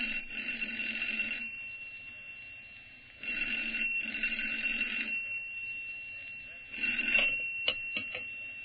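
An old telephone bell rings in repeated bursts with short pauses between them, a bright, steady metallic trill heard fairly close with no talk.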